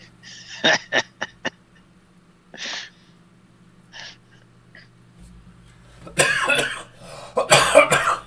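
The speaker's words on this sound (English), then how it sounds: "Still got that cough, huh" Several sharp coughs come in a quick cluster, then a couple more scattered ones, followed by louder harsh coughing and throat noises near the end.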